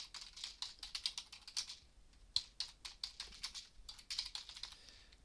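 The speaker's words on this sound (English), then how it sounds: "We'll type in some text" Keys on a computer keyboard are typed close and quietly in quick irregular bursts, with short pauses between runs of clicks.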